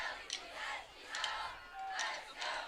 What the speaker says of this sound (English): the crowd is cheering on this Bruin team